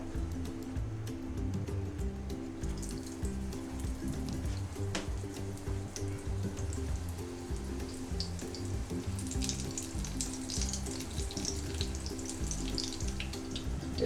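Flour-coated chicken snack pieces fry in oil with a steady, fairly quiet sizzle that continues unbroken, accompanied by a low background hum.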